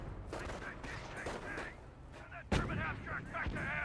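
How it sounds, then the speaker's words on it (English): A US mortar fires in the strategy video game Company of Heroes amid a busy battle soundscape, with one sharp, loud thump standing out among scattered distant shots and blasts. "the US mortar's now firing away"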